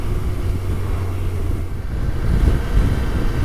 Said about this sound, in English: It's chuffing windy!